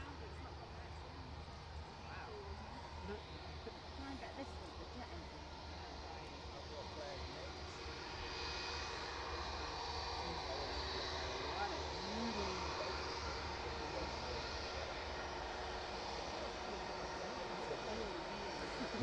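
Airliner taxiing out toward runway 09 at East Midlands Airport in the evening, a steady distant engine drone holding through the whole stretch beneath a voice talking over it.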